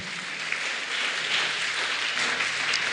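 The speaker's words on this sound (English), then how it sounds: "Hand clap, hand clap, hand clap," An audience at a scholarship award ceremony led by Kenya's Education Cabinet Secretary breaks into dense, continuous hand clapping. The applause is steady and sustained throughout, with no voices over it.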